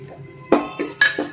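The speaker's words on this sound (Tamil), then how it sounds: "அந்த ரவையை இதுக்குள்ள நான் போடுறேன்" Roasted semolina (rava) goes into ghee in a metal pan, followed by four quick, close metallic clinks and scrapes of a spoon against the pan over a faint background hum.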